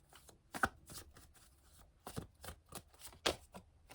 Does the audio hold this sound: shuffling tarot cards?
yes